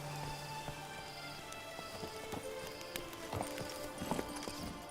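Horse hooves clip-clop at an easy, steady pace in The Witcher 3, a rhythmic series of fairly close hoofbeats over a quiet ambient backdrop.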